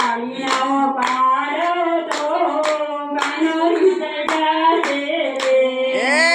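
Hand claps keep a steady beat beneath a sung melody, sharp and close, repeating through the whole passage.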